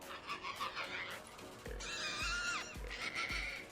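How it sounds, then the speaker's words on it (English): Pig-like alien creature in a Star Wars video game gives repeated squealing, whinnying cries, each opening with a low thump, loud and close. "They got those pig noises in."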